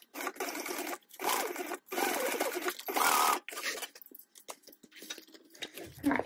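Sewing machine stitching the corners of a tote bag at a half-inch seam, running in several rapid bursts of about a second each with brief pauses between, fairly close and steady.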